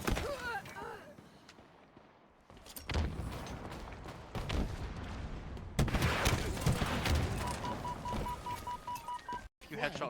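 Sniper rifle gunfire in a competitive shooter match, sharp loud cracks rising over a busy game soundscape, with a commentator talking and a steady beeping tone near the end.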